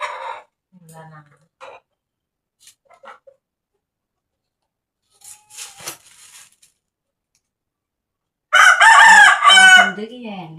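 A rooster crows loudly and close near the end, after quiet stretches with scattered faint sounds and brief bits of soft talk in the earlier part.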